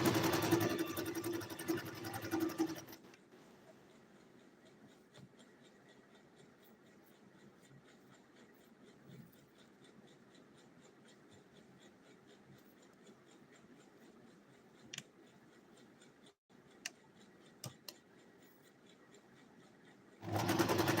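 A sewing machine stitching a green ball gown runs in a steady, even mechanical whir for most of the stretch, with louder handling noise at the start and end and a few brief clicks along the way.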